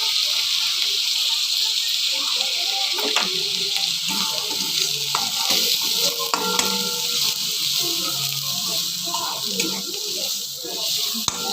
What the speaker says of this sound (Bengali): কড়াইয়ে আমি পেঁয়াজ আর টমেটো দিয়ে দিচ্ছি, ভাজা ভাজা হয়ে আসছে।